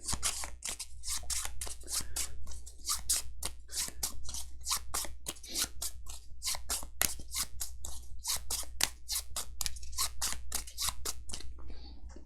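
Playing cards are shuffled for a board game, a rapid run of crisp riffling snaps repeated steadily for several seconds over a low constant hum, close and fairly quiet with no talking.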